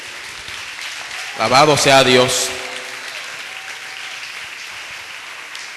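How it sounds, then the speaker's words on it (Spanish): A church congregation claps during a worship service, a continuous clapping bed heard under a man's loud spoken exclamation that briefly rises above it. "rinde un aplauso al Señor en este día"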